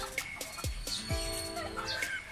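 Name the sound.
backyard chickens, stags and hens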